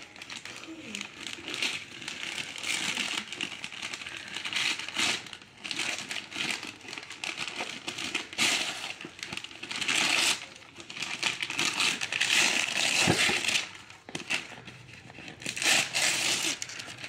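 Wrapping paper on a Christmas present being torn open and crumpled, a busy run of crackling, ripping bursts lasting throughout, close and fairly loud, with faint voices in the background.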